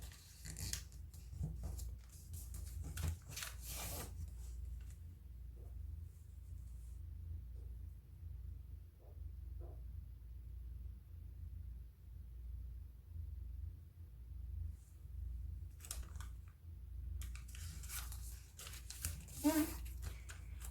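A sheet of paper being folded along its center line for an origami fish, with quiet crinkles and creases at the start and near the end around a long, near-silent pause.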